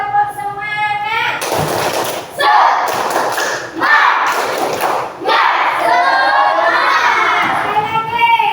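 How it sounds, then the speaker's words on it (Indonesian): Schoolchildren in a classroom perform a rhythmic spirit clap, bursts of loud group clapping and shouting in sections, interleaved with a teacher's sung or spoken cues. "ayo kita tepuk semangat"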